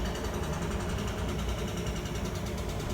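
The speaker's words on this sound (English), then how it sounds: "You can probably hear a jackhammer in the background," A jackhammer pounds in the background outside a blacksmith's forge workspace, a continuous rapid rattling and thudding that fills the clip at steady volume with no speech.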